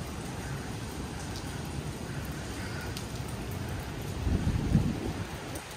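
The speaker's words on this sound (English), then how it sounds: "It would be very, very nice if it wasn't raining." Steady rain falls outside a five-star hotel, a continuous soft wash of drops with faint low rumbling, growing slightly louder near the end, with no voices.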